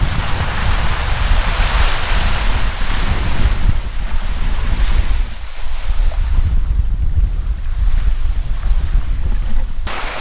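Waves wash onto the Lake Michigan shore at Point Betsy Lighthouse in a continuous loud roar, mixed with heavy wind buffeting the microphone and no talk.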